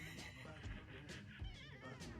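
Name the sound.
cat meowing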